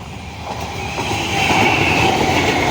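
A train rolls past on a railway line right beside a fishing spot, its steady rumble and wheel clatter growing louder and closer, with no voices.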